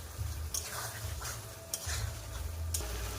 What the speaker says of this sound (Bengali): চিংড়ি মাছ দিয়ে দেব, দিয়ে সব একসঙ্গে কষতে হবে।